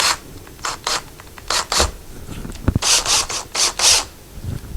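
A Phillips head screwdriver loosely driving screws while installing a closet shelf and metal clothing bar, a run of short rasping, ratcheting strokes in quick irregular bursts, close and fairly loud with no talk.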